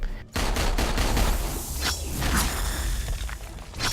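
Deadpool fires his pistols in Marvel Heroes, a dense, loud volley of rapid shots with whooshing swipes and clattering impacts running continuously with no talking.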